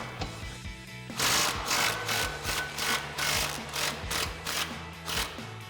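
Impact wrench with a 21 mm socket and swivel adapter loosening control arm bolts on a Jeep Wrangler JK. A short mechanical whir is followed by a run of rapid, rhythmic hammering bursts, close up and loud, with no talking.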